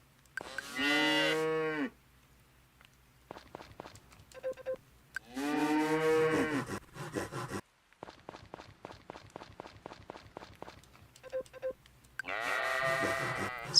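Farm animals in the Story of Seasons: Friends of Mineral Town video game: three loud, drawn-out moos or bleats stand apart, separated by quick game clicks and soft footstep-like ticks.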